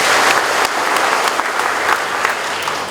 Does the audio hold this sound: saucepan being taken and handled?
no